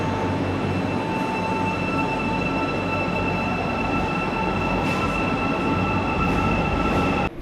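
A subway train sits in a station with a loud, constant rumble and steady tonal hum, faint wheel squeal over it, ending with an abrupt drop in noise.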